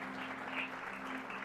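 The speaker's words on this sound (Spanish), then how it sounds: "demos un aplauso para la honra del Señor" A church congregation applauding together, a dense and even patter of many hands clapping that carries on steadily at moderate volume over a low background hum.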